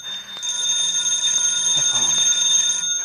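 A phone rings in an indoor scene, a steady bright electronic trill lasting a few seconds over a low background hum.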